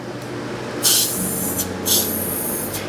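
Spray can coating a wooden Christmas star with gold paint: two loud, close hissing bursts of about a second each, with shorter faint puffs in between, over a low steady room hum.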